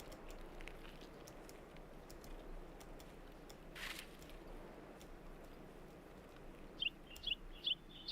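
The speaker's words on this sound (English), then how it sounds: "That bird is stupid loud." A loud bird calls in the game Escape from Tarkov, three sharp chirps near the end over faint outdoor ambience with scattered distant clicks and a brief rushing burst.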